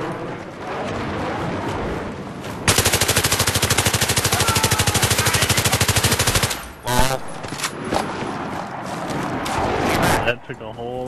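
Sustained automatic gunfire in the Battlefield 3 online multiplayer game, a loud rapid burst of a few seconds amid battle noise, followed by scattered shots and explosions.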